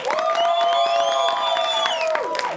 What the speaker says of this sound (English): let's give her a warm round of applause for her national debut on television